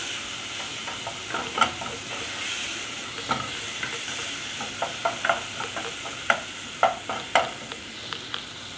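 Thick tomato gravy for a mixed vegetable and coconut milk dish bubbles and sizzles in a pan while a spoon stirs it, giving a steady simmering hiss with repeated clinks and scrapes against the metal, close up.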